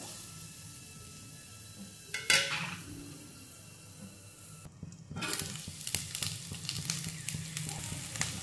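Onions fry in butter in a pan, a low sizzle broken by a utensil clatter, a brief gap, then livelier crackling and stirring scrapes toward the end.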